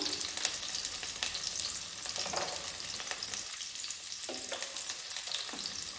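Tomatoes and garlic fry in hot oil in a pan, giving a steady, close crackling sizzle with a few brief stirring scrapes throughout, and no voices.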